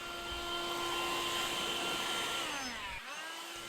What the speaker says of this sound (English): Then you can kick it on higher like I do here to actually move the leaves through the grass.